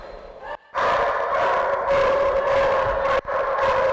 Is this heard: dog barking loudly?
yes